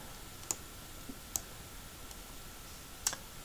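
A few faint, sharp mouse clicks, spaced irregularly, from working in an Excel spreadsheet, alone against quiet room noise.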